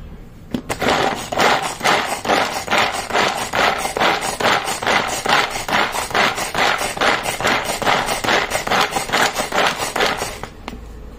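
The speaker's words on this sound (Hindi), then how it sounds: "अब चलिए, हम इन्हें भी चॉप कर लेते हैं।" Onion and garlic are chopped in a hand-pulled chopper, producing a fast, even series of loud clacking, rasping pulls about twice per second for ten seconds, close up and without talking.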